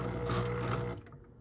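A sewing machine stitches through fabric for a memoir memory ornament, a steady close mechanical whir that runs loud for about a second and then stops, leaving only faint room noise.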